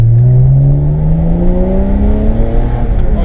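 A BMW E36 with a swapped 2.8-litre M52 straight-six on a straight-pipe exhaust revs loud and close, its raw tone climbing steadily as the engine is held and pushed higher, with no talking over it.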